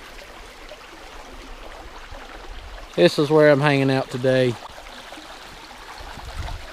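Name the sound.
creek water flowing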